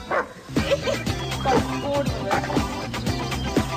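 A small dachshund barks and yips repeatedly in a quick, uneven series, loud and close, with a few whimpering notes between the barks.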